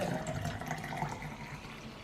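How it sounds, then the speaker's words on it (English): Simple syrup is poured into a jug of lemonade, a steady soft liquid stream that trickles and splashes quietly and fades slightly toward the end. "Now I'm going to pour the simple syrup into the jug."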